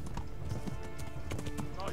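Horse hooves galloping in Kingdom Come: Deliverance, a rapid uneven run of thudding clip-clops heard under game effects and a faint whinny.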